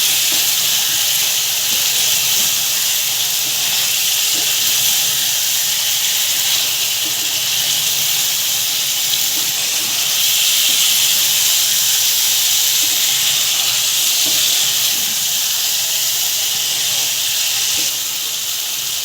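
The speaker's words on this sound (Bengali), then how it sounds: "এবার জল গরম দিয়ে দিলাম।" Hot water poured into taro curry in a village kitchen, giving a continuous loud sizzling hiss with steam that holds steady throughout, close and uninterrupted.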